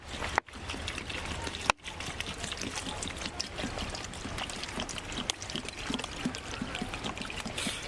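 Water being poured into a pot for broth at a campsite, a continuous close splashing trickle broken by a couple of brief clunks, with no talking.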